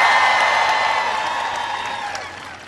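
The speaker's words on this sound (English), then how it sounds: "Give him a big round of applause" A large crowd at an outdoor 2012 Barack Obama campaign rally in Woodbridge, Virginia, claps and cheers loudly, with whoops rising over sustained applause that slowly fades across the stretch.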